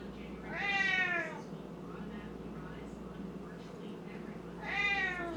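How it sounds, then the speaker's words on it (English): A hungry house cat meows twice, each cry short and bending in pitch, separated by a few seconds of quiet room hum, fairly close and clear. "cat's always hungry."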